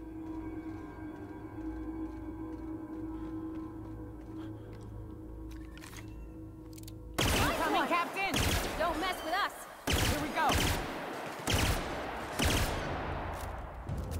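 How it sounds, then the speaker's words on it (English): Gunfire in The Outer Worlds comes in after a quiet hum: sharp, loud shots in bursts and single cracks, near and punchy, mixed with game effects and talk. "Shooting"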